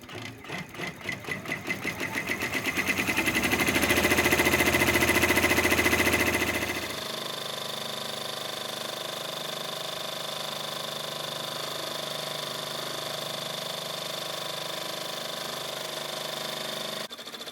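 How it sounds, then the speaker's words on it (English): Babylock Array multi-needle embroidery machine running a zigzag stitch program, a loud, fast rhythmic mechanical chatter that swells for the first seven seconds, then settles into a steadier, quieter whir with a constant hum. "I'm going to hit lock and start, and then it should do those zigzaggy stitches and the pretty stitches"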